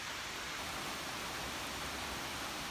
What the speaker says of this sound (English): you can hear the rain coming down.